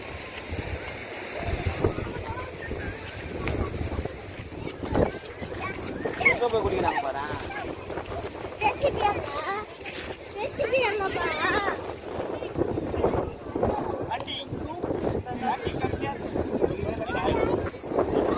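Strong wind buffeting the microphone at a beach in Pondicherry, gusty rumbling roar with surf in the background, heard under a family talking.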